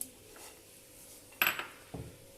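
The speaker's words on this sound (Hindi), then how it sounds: "मैं इनको भी निकाल लेती हूँ अब एक बाउल में" Roasted walnuts and other nuts tipped into a bowl in a home kitchen, heard as a few short, close clattering knocks against the dish, with quiet pauses between them.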